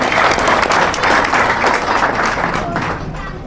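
An audience of party supporters applauding at a political gathering, heard as loud, dense clapping from a crowd close by that carries on steadily before easing off.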